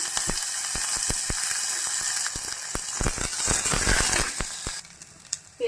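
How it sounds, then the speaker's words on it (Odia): Onions and green chilies frying in oil, with a steady close sizzle and sharp crackling pops scattered throughout, quieting near the end. "ପିଆଜ ଭଲରେ ଭାଜି ହେଇ ଆସିଲାଣି।"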